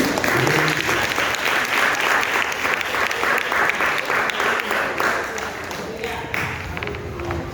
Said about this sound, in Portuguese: quero que você aplaude Jesus pela vida do Pedro